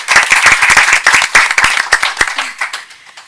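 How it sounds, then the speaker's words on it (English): A small audience at a school committee meeting claps for council representatives, sharp close hand claps in a brisk, uneven patter that thins and fades toward the end. "I just want to give you a round of"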